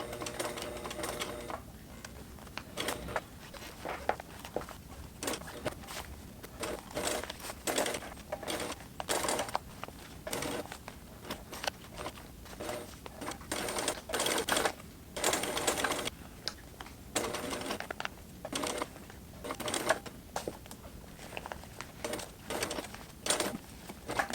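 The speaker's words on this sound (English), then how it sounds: "I'm sewing to the zipper tape." Sewing machine stitching zipper tape onto a homemade waist pack, running in repeated bursts of rapid mechanical clatter separated by short pauses, close and steady throughout with no talking.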